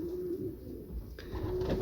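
Pigeons coo softly in a loft, a low, rolling call with faint rustling around it, quiet and close.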